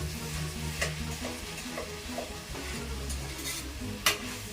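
Tomato is stirred and mashed into chicken curry frying in oil, with a constant sizzle under repeated spatula scrapes and one sharper knock near the end, close and free of talk.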